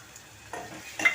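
Roasted, ground dry coconut being stirred into a sizzling spicy chicken curry in a pan, with a soft steady frying hiss and two brief scraping bursts of the spoon, no voices.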